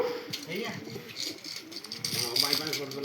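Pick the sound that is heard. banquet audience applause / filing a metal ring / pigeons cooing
pigeons cooing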